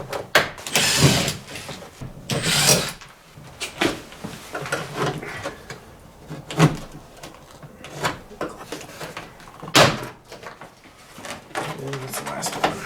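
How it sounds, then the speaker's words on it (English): Rear door panel being pried off a Jeep Grand Cherokee ZJ during a door lock actuator install, a series of close plastic clip pops, snaps and rattling knocks at irregular intervals, with a few louder cracks amid handling noise. "I'm gonna take out the door panel."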